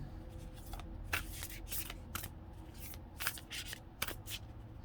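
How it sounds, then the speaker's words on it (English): Large, oversized unicorn oracle cards shuffled by hand, repeated crisp riffling bursts at an irregular pace with a steady faint background hum, close and quiet with no talking. "These are really big, so they're not so easy to shuffle"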